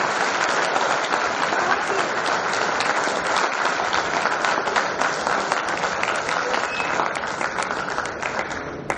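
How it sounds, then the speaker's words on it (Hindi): A large audience at a Noida mushaira and kavi sammelan breaks into loud, sustained applause welcoming poet Rahat Indauri, dense clapping holding steady and easing slightly toward the end. "जोरदार तालियों से आमंत्रित करें जनाब डॉक्टर राहत इंदौरी।"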